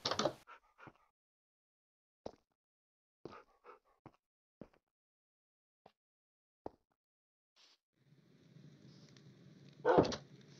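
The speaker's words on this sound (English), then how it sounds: "Hey, a doggy with a blue collar." Dog in the Minecraft video game, a few faint, scattered whimpers and short yelps spaced out over quiet gaps, followed by a louder burst near the end.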